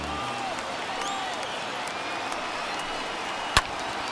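A crowd of over 39,000 at a Braves–Reds baseball game, standing and cheering, fills the whole stretch as a steady roar, with one sharp crack near the end.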